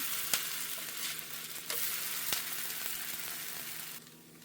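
A barley dosa fries on a hot pan just after flipping, giving a steady close sizzle with a few sharp crackles and pops throughout before it softens near the end.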